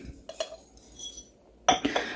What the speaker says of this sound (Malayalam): ഈ പച്ചരി നമുക്ക് ഈ കുപ്പിയിലേക്ക് ഇട്ട് കൊടുക്കാം